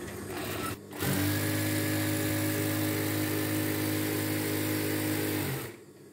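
A motorcycle engine fitted with a rebuilt old dynamo and new clutch plates runs steadily with a buzzing, harmonic whine. It starts after about a second, holds an even pitch for several seconds, then cuts out. Nobody speaks.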